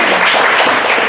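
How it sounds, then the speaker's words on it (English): An improv show audience gives a volunteer steady applause, a continuous wash of many clapping hands filling the room with no break. "Another round of applause for Nakaya."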